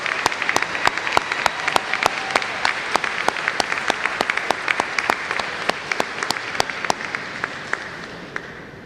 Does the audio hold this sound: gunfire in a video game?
no